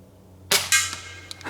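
A spring-powered air pistol fired at a bottle target: two sharp snapping cracks close together, then a faint ringing tail and a couple of small ticks, all near and fairly loud with no speech.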